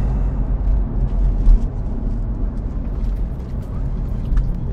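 A 2008 Porsche 911 Targa 4S with its 3.8-liter flat-six pulls through a turn on a Tennessee road, a loud, steady low engine drone with road rumble filling the whole stretch.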